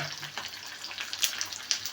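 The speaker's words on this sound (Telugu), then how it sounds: "అలాగే ఆనియన్స్, వెల్లుల్లి, సో ఈ విధంగా కరివేపాకు అంతా వేసేసుకున్నాక" Onions, garlic and curry leaves fry in oil for drumstick sambar, giving a brief, soft crackling sizzle with a few sharper pops and no voices.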